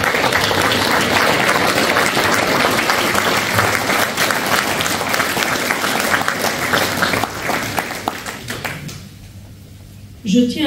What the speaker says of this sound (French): je souhaiterais que tout le monde l'applaudisse très fortement